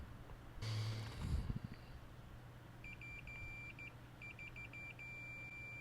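A multimeter in continuity mode beeps in short repeated bursts and a longer steady tone, quiet and clear, following a brief clatter of handling during a repair on an iPad 10 board.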